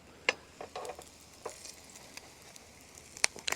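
Eggy bread fries in a Ridgemonkey pan at a campsite, a faint, steady sizzle broken by a few sharp clicks and scraping taps of handling, with no talking.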